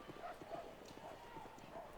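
Horses' hooves clip-clop in the video game Baldur's Gate: Siege of Dragonspear, a quiet, fairly even run of soft hoof knocks under a low game background.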